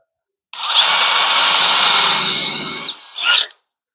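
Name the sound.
small drill bit drilling pilot hole in architrave wood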